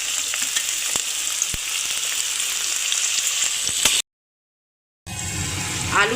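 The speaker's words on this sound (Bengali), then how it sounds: "আলু আর পেঁয়াজটা ভেজে নিয়ে ফিরে আসছি।" Potato and onion frying in a pan, a loud steady sizzle with occasional stirring clinks for about four seconds, a brief silent gap, then the sizzle resumes.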